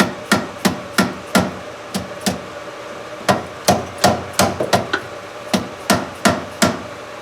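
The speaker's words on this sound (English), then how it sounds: "So just give it a couple of whacks." A hammer whacks the parking brake motor of a 2017 GMC Acadia in a run of sharp metallic blows, about fifteen close, loud strikes in quick uneven groups with short pauses between them.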